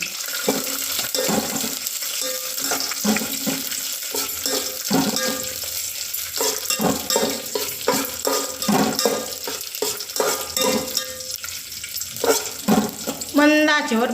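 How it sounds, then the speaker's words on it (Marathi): Raisins roast in ghee in a pan over a low flame, giving a continuous crackling sizzle with brief stirring scrapes throughout. Near the end come a few sharper clinks. "मंद आचेवर बेदाणे भाजून घ्यायचे आणि बेदाणे फुलवून घ्यायचे"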